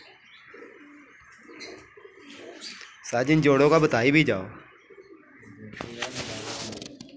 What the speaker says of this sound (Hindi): ये चौधरी वाले कबूतर हैं।